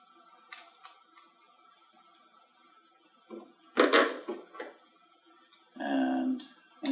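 Small bolts are fitted into a Zumo32U4 robot chassis: sparse, close-up clicks, taps and light rattles of metal parts and plastic, separated by quiet gaps.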